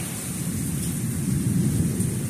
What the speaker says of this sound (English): Whoa, thunder's getting loud.